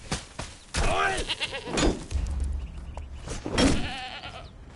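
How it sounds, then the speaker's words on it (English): Mountain goats bleat in the open terrain of the Conan Exiles game world, several wavering cries rising over a steady ambient game soundscape, fairly close and clear. "Some mountain goats over here."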